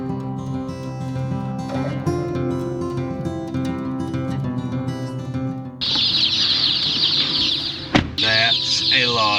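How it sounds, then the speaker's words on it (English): Crowd of baby chicks chirping steadily inside a large brooder built from a converted 18-wheeler trailer box, dense overlapping peeps throughout with a louder, brighter burst of chirping partway in and a sharp clatter near the end. "That's a lot of chicks."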